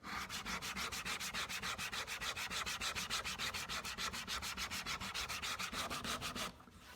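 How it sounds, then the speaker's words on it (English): Sandpaper on a sanding block is rubbed back and forth over a curved wooden workpiece cut on a table saw, a close, steady rasping rhythm of about six strokes per second before it stops near the end. "Now I'm going to switch to sandpaper,"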